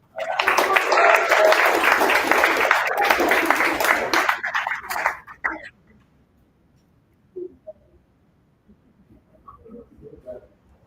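A crowd applauds loudly and steadily for Taisha Newman as she comes to the podium at a community showcase, the clapping fading out after about five seconds into near silence with faint stray sounds.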